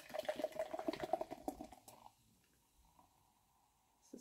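Fizzy water is poured into an empty Meoky 20oz coffee mug: a brief, faint splashing pour lasting about two seconds, then near silence with a soft click at the end.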